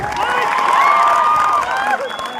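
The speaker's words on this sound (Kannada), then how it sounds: "ಜೋರ ಚಪ್ಪಾಳೆ ಧನ್ಯವಾದ ಸಲ್ಲಿಸ್ರಿ" Crowd at a protest sit-in clapping and cheering together, a dense burst of applause and shouts lasting a couple of seconds, close and fairly loud.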